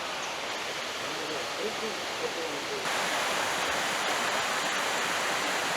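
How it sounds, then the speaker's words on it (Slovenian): The fourth waterfall in the Pekel gorge gives a constant, loud, broadband rush of falling water on a forest hike. The roar is steady throughout and grows slightly louder halfway through. "Prihajamo do 4. slapu."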